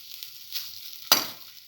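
An egg stir fry with curry leaves sautés over a low flame, a soft steady hiss broken by one sharp sizzling burst and scrape midway, fairly quiet with no voices.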